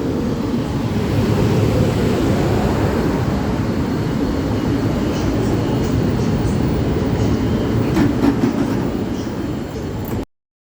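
Steady loud rumble and rolling roar of the EC/IC 108 Sobieski passenger train, heard from inside the carriage at speed, continuous throughout with faint higher clicks late on before an abrupt cutoff.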